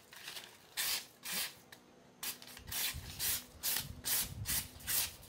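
Wolf 5.56 neck knife slicing through material in a steady series of about eight rasping strokes, each a short bright scrape with brief pauses between, close and fairly loud with no talking.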